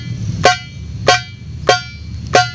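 Four evenly spaced, sharp, ringing tek strokes on a darbuka, played with the ring and index fingers of the right hand, each a bright crack with a short ringing tail, heard close and without any talking.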